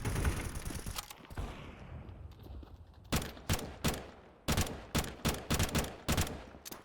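Gunfire in Counter-Strike, first as a dense burst of rapid shots, then after a quieter stretch as a string of separate sharp, loud reports fired in quick succession.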